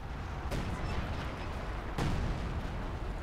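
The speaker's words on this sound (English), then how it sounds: "Artillery is coming in." Artillery shells land in Company of Heroes 2, two heavy booming impacts spaced a second and a half apart over a constant low battle rumble.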